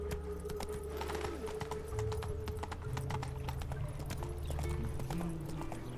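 Horse hooves gallop in steady rhythmic clip-clop on Roach, Geralt's horse in The Witcher 3 during a race, loud and continuous over game music, with a brief whinny.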